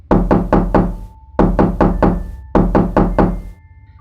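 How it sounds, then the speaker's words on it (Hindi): Someone knocks on a door at midnight: three loud, close groups of four quick raps each, separated by short pauses, with no voices. "आधी रात को किसी ने आपका दरवाजा खटखटाया है"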